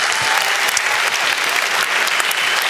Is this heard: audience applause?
yes